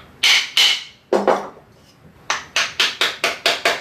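Hammer taps on the wedge and iron of a traditional Chinese wooden hand plane: two sharp knocks, a single heavier one, then a steady run of six evenly spaced taps, close and crisp.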